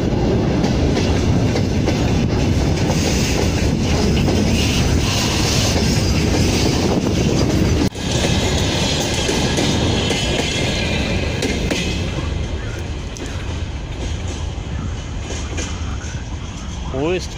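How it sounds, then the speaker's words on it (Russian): A train rolls past on the railway tracks, close and loud, with a steady rumbling clatter of wheels that holds for about twelve seconds before easing off slightly as it moves away. "Поезд проехал."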